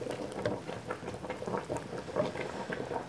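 A pot of oat lasagne simmers on the stove with soft, quiet bubbling and faint irregular pops, a gentle continuous patter heard close by.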